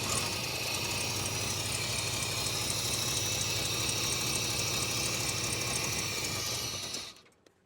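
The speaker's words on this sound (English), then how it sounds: "When I get it started, just let it idle." A 1995 GMC truck engine runs at a steady, loud idle close by, with an even mechanical drone and faint ticking that cuts off abruptly near the end.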